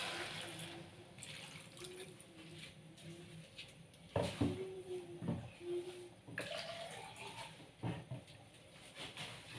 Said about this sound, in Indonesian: Kita kasih air ya bun.